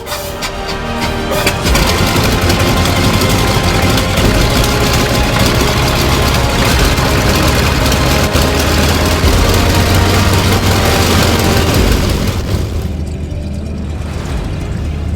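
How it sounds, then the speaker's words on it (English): Yak 110 airplane engine on a full-power ground run with the tail tied down: a loud, steady roar that holds almost unbroken and eases off slightly near the end, with no talking. "do another ground run, get up to full power, tie down the tails, and do a full power run"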